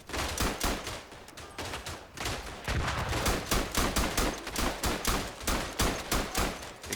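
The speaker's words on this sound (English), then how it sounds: "Ignore the shell fire." Shellfire and gunfire in the Verdun trench-warfare video game: a dense, continuous barrage of loud bangs and rattling shots, almost without pause, no talking.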